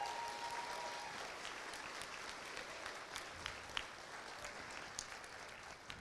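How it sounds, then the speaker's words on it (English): A graduation ceremony crowd applauds steadily throughout, a soft, distant-sounding wash of many hands clapping with scattered sharper claps standing out. "Let's give them an applause, please."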